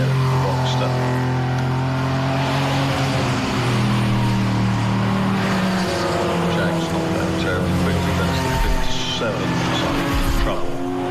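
Race cars, a Porsche Boxster among them, roar past at Castle Combe circuit, with loud sustained engines and shifting pitch continuing under a commentator's voice throughout.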